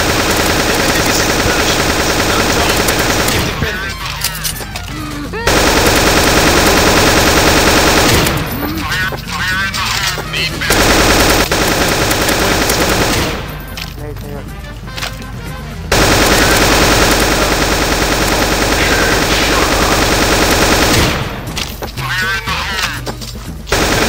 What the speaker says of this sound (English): Shoot the zombies off from the parachute.